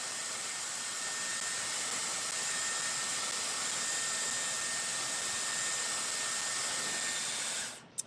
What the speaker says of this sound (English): You can dry your roots, get that rough dry.